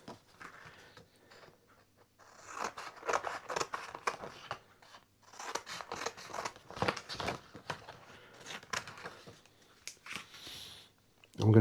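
Scissors snipping out printed water slide decal paper for a guitar headstock, a run of quiet close crisp cuts in irregular bursts with short pauses and soft paper rustling.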